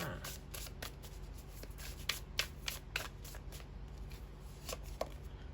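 Tarot cards shuffled close by in a steady run of soft riffling flicks with small sharper snaps, alone with no talk.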